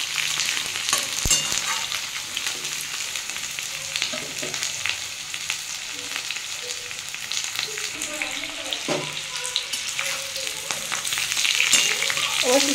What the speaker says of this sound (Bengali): আমি আরেকটু ভেজে নেব লাল লাল করে।